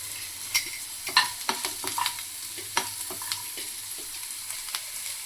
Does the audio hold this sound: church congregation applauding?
no